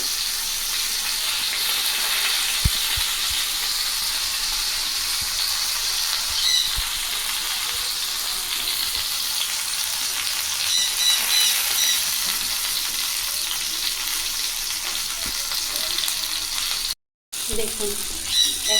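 Steady sizzling of rohu fish frying in hot oil on a griddle, with faint occasional clinks and brief scraping, continuous throughout.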